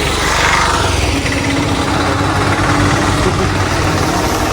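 A boat engine idles on a Kerala backwater outing, a loud, steady low throb with constant vibration and no talk over it.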